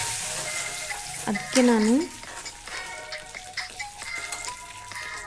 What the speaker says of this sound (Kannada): ಇವಾಗ ನಾನು ಹುಣಸೆ ರಸ ಹಾಕೋತಾ ಇದ್ದೀನಿ